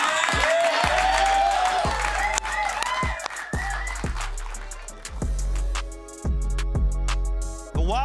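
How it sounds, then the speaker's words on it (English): Applause from a rugby league studio show audience swells in bursts among loud musical stings and thumping beats, the clapping partly buried under the music. "All right, keep the applause going, because it is time for a break."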